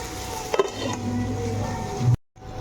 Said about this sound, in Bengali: এইভাবে অল্প অল্প আঁচ করে ভেজে নেবো করলাটাকে।